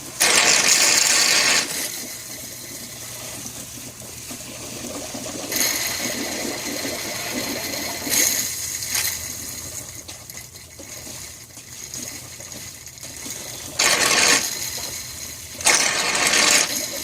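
A shop vacuum sucks oil out of a Kubota Grand L 3560 tractor, making a steady whooshing hiss with gurgling, slurping surges that rise and fall in loud bursts.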